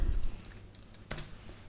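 A few soft keystrokes on a computer keyboard while HTML is entered, sparse and quiet, with one sharper click near the end and otherwise a hushed room.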